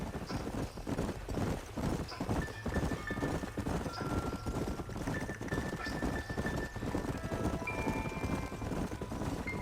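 Horses' hooves clip-clop steadily on the trail in the Western video game Red Dead Redemption, a continuous rhythmic ride close by with an occasional snort or whinny and faint game music beneath.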